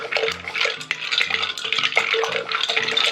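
A cocktail mixture is stirred in a steady run of close, bright clinks and swishes, one after another for a few seconds with no voices.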